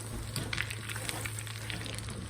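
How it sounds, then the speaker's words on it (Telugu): Chicken pieces crackle in hot oil during a second fry, a loud, dense, continuous sizzle close by. "ఇలాగా ఆల్రెడీ డబుల్ ఫ్రై చేశాను నేను ఇది"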